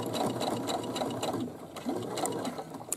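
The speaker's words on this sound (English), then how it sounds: "And now I'm going to stitch forward." A sewing machine stitches forward along the boxed corner of a fabric bag, a steady rapid mechanical whir with even needle clatter running continuously and close throughout.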